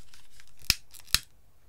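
Two sharp, close scissor snips about half a second apart, cutting craft material for a Halloween suitcase, each a crisp click over a quiet background.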